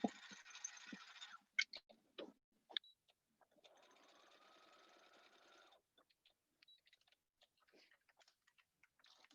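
A sewing machine stitches a ribbon skirt in short bursts, a fast whirring run, then a longer steady stretch, broken by quiet clicks and handling noises, faint and close.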